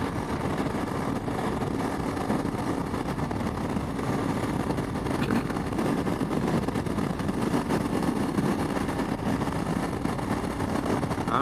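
A Yamaha Tenere 700 motorcycle fitted with a Barnett clutch, ridden steadily, gives a continuous, even engine drone mixed with road and wind rush, with no talking.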